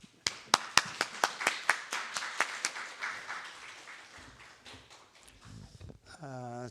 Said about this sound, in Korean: 나오실 때 우리 박수로 환영하겠습니다.